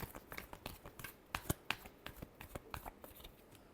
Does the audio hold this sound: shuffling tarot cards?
yes